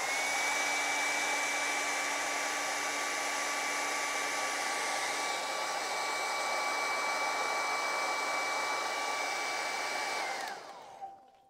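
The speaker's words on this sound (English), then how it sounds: "I'm gonna dry that so it doesn't smudge into my white as much" A hair dryer blows steadily over a watercolor painting, a loud continuous whir with a thin high whine that runs for about ten seconds before shutting off and winding down.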